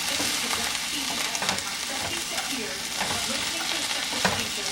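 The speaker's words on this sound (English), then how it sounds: "Stir it on up." Portobello mushrooms, onions and peppers for cheesesteak are stirred in a hot frying pan, giving a steady close sizzle with repeated scraping and clattering stirs throughout, no talking.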